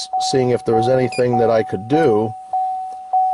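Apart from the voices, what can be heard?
repeated electronic beeping in car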